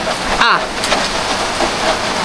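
Steady rain pours down outdoors in a hilly, tree-covered area, a dense, even hiss that holds at the same level throughout, with a brief rustling disturbance near the start.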